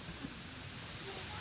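Rain falls steadily as an even hiss, close and moderately quiet, with no distinct drops or voices standing out.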